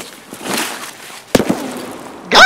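Gunfire in Escape From Tarkov: a couple of sharp, loud cracks in quick succession, with a softer report and a burst of noise at the end, heard against a quiet background.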